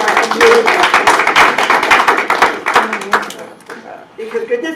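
An audience claps for teachers at a local Democratic club meeting on school vouchers, a crowd's dense rapid clapping filling the room for about three seconds before fading, while a voice continues talking.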